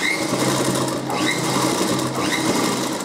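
A sewing machine stitches fabric in a steady, continuous fast whirr, loud and close, with faint squeaks over the mechanical hum and no talk.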